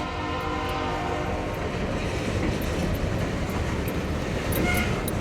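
A CN L571 freight train hauling ethanol tank cars rumbles past nearby, with a steady loud roll and clatter of wagons and faint horn tones above it.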